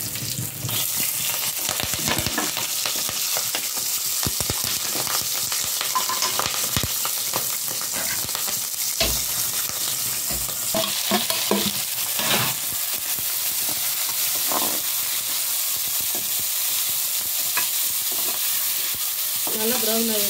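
Cashews and dried and green chillies frying in oil for aval upma, a dense close sizzle with frequent clicks and spoon scrapes as the pan is stirred, steady and loud with no speech.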